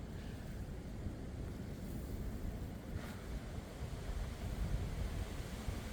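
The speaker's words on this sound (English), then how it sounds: "keeps squalling up with wind" Gusty wind blows steadily across a lakeside in April, a continuous broadband rush that swells slightly without clear breaks, with no voices.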